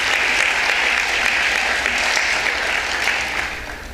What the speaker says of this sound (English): So a small applause for yourselves for making the time to be here